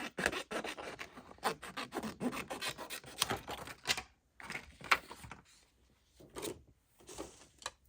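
Scissors snip through laminated collage paper for a crafted window label, a quiet series of short crisp cuts and rustles in an irregular rhythm with brief pauses.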